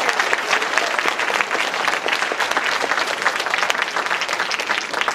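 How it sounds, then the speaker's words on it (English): A large crowd at an anime convention stand-up comedy show applauds, dense and continuous clapping that fills the room at steady loudness for several seconds. "Give yourselves a round of applause first."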